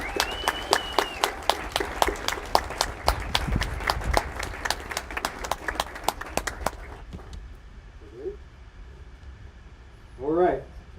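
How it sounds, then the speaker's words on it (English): Outdoor applause at a high school graduation ceremony honouring donors, with a steady patter of claps for about seven seconds before it fades. Brief faint voices and small sounds follow in the quieter stretch. "So let's give a round of applause to all the donors and all the scholarships."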